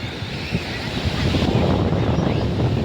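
Sea waves and wind at a beach, a steady broadband wash of surf with gusty rumble on the microphone, growing louder and fuller after the first second with no talk.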